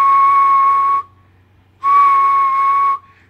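Someone whistles into a CB radio microphone keyed through a Silver Eagle 200 linear amplifier, producing two long, steady, loud whistle tones of about a second each, separated by a brief pause.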